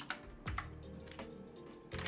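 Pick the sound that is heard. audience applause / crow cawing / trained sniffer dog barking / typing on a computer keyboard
typing on a computer keyboard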